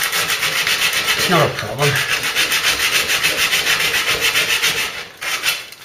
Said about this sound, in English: So I'm going to hand sand this one for you.